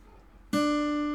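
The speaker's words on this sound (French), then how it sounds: "Et là, je vais faire un pull-off." A single guitar note in Congolese seben style, played as a pull-off, rings out suddenly after a quiet start and then sustains with a clear, steady tone that slowly fades.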